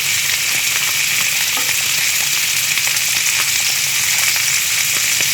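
Tilapia fillets pan-frying in a skillet give a loud, dense, unbroken sizzle with fine crackle throughout, close up and steady, with no voices.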